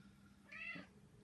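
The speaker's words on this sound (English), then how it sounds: "Meow." A cat gives one short, faint meow, close and rising then falling, over a quiet room background.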